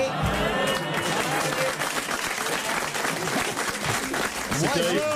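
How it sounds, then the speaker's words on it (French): Studio audience applause at a French comedy show, a dense, steady wash of clapping with some crowd noise that holds for the whole stretch, with voices mixed in underneath. "au lieu d'applaudir comme des moutons de panurge"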